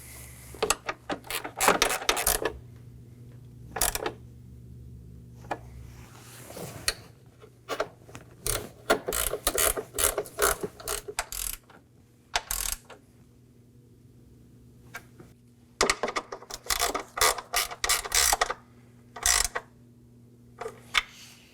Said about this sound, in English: Now at the filler neck, I'm also going to install my 10mm bolts. Now I'm just going to snug these down.